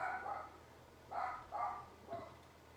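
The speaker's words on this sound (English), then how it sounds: "I'm sorry my dogs are barking" A dog barks in three or four short bursts, moderately close, with pauses between, over faint room hiss.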